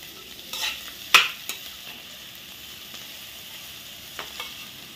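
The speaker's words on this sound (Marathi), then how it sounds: "आता 1 मिनिटाने हे मी झाकण काढते आणि परत एकदा हे ढवळून घेते." Onions and spring onions being stirred in a pan, with a few short scraping strokes over a faint, steady sizzle and no talking.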